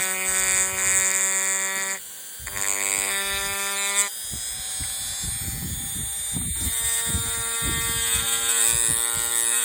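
Dremel rotary tool stippling a striker-fired pistol frame, a loud high-pitched motor whine whose pitch shifts and climbs, broken by short scraping and chattering bursts as the bit bites into the polymer.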